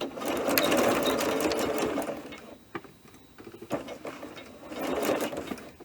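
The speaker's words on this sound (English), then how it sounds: "put your presser foot down, and start stitching, and make sure to backstitch at the beginning and at the end of the seam" A sewing machine stitches a princess seam on a knit dress, with loud whirring runs of stitching at the start and end separated by a quieter stretch of short stop-start bursts, as when backstitching.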